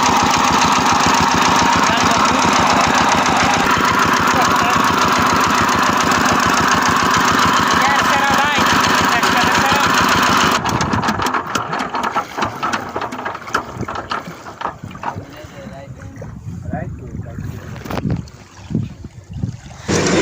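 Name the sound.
motor boat engine crossing a river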